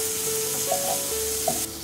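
Apple pie filling cooks in a pan over steady heat, giving a continuous close sizzle with a few soft stirring scrapes and clicks on top, no voices.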